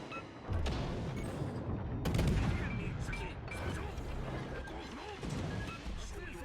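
Naval gunfire from destroyers in a World of Warships battle, heard as a few loud booming salvos with crashing impacts over a continuous rumbling engine and sea bed of noise, close and full.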